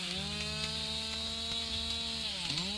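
A chainsaw in the video game Survive the Nights cuts into a tree with a continuous droning buzz, steady and loud, its pitch dipping briefly near the end.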